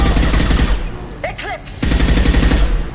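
Rapid automatic gunfire rattles in a Mass Effect 2 firefight, a dense, loud burst that breaks briefly in the middle, where a voice speaks, and then resumes.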